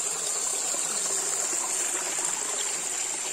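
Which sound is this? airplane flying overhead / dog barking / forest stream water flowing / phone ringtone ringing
forest stream water flowing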